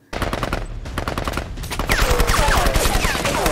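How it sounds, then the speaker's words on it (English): Rapid bursts of gunfire in a Steven Seagal action film, loud and close, with dense automatic fire continuing throughout and growing heavier. "Where was he even shooting?"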